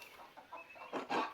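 Chickens cluck in the Pentiment video game, a few soft, short calls followed by two louder bursts of clucking near the end, with no talk over them.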